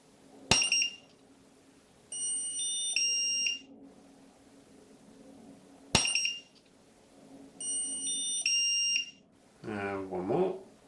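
Triopo speedlights (TR961, TR586, TR982) recycling after full-power flashes: two sharp flash pops, each followed by sustained electronic ready beeps from several units, with a short burst of talk near the end.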